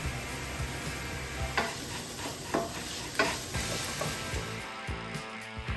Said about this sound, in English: Then add the tomato paste and keep stirring.